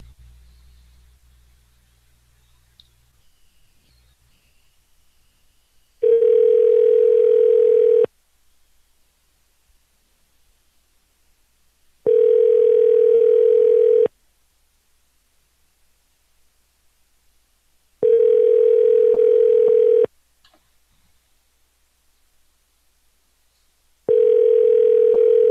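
A telephone line rings during a call. Four identical steady tones of about two seconds each repeat at even intervals with silence between them, clear and loud with no voices.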